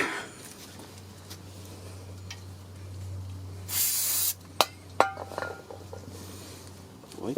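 Brake lubricant sprays from a can onto the front brakes of a 2012 Dodge Caravan as a single short hiss in a quiet garage, followed by a few sharp clicks and taps over a low hum.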